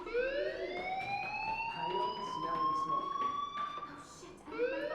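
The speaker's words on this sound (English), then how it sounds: "Hey, do you hear that fire alarm? That means you should be outside." A school fire alarm in the video game Life Is Strange rings with a rising, wailing electronic tone, continuous and fairly loud, while characters talk over it.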